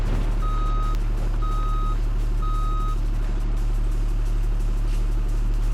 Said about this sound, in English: Go in reverse, full throttle here.